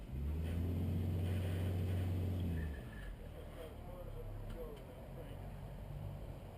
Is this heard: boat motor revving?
yes